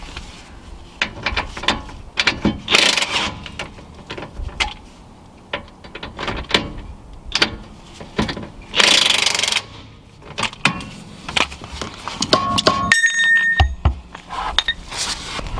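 Ratchet working on Mercedes C/E/S/CLS-class thrust arm bolts under the car, sharp bursts of rapid clicking interspersed with metallic clanks and tool knocks, loud and close, with brief pauses between strokes.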